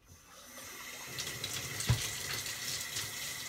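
Water runs steadily from a tap, a close hissing splash that builds in the first second and stays constant, with a small clunk midway.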